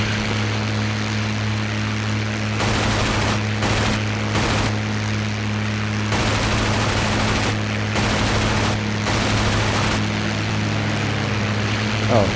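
Bursts of rapid machine-gun fire from a P-51D Mustang fighter in a combat flight game ring out in several short volleys over a constant droning propeller engine, with players talking on the radio.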